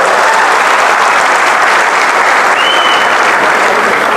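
A large audience claps loudly and densely in continuous applause welcoming minister Chandrashekhar Bawankule at a public gathering for farmers, the sustained clapping filling the whole stretch.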